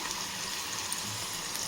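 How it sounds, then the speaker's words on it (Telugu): Water poured steadily from a tea glass into a pan of cucumber curry, a continuous close splashing trickle with no talk. "ఈ టీ గ్లాస్ కొలతతో నీళ్ళు పోసుకొని"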